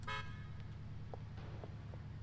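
A car horn in the video game GTA IV gives a short honk at the start, followed by faint scattered game sounds over a low steady hum, with no talking.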